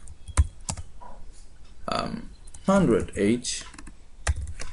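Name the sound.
typing code on a computer keyboard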